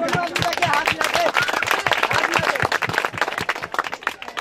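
An audience at a local T20 cricket match applauds the man of the match, dense sharp hand claps crowding together loudly and close, with crowd voices mixed in.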